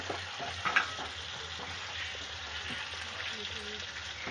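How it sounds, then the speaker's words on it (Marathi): Fish pieces frying in a pan give a steady, close sizzle of hot oil throughout, with one brief louder crackle near the start. "इथे बघा ही पण मच्छी फ्राय झालेली आहे"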